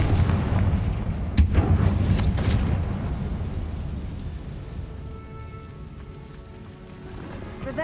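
A Confringo fire spell explosion in the Hogwarts Legacy video game: a sudden booming blast followed by a long, heavy rumbling roar that slowly fades.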